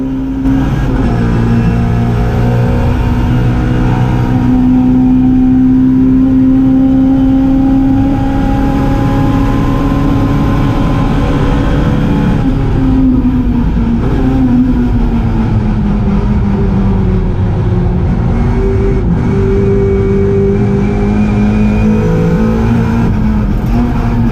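A Mini Cooper race car engine drones loud and continuous from onboard during a race at Goodwood Revival, with a worn left front tyre, pitch rising and falling through gear changes and corners.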